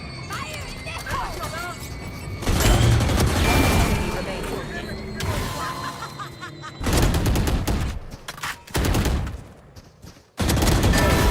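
Gunfire and bursts from a Valorant match, with loud blocks of rapid shots and booming explosions that come and go in waves, a voice heard in game at times.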